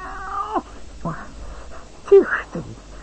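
A cartoon cat lets out a few drawn-out, wavering yowls in short bursts, fairly close, with a voice mixed in among them.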